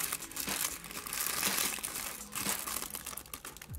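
Crinkly paper is unwrapped from around small doll accessories, a steady close rustling and crackling that runs the whole time with no voices.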